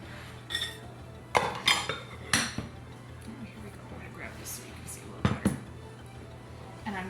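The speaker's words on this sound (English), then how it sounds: "I'm just going to mix this up" Thick Irish soda bread dough is stirred in a bowl with a utensil, giving scattered knocks and clinks against the bowl as someone speaks over the mixing.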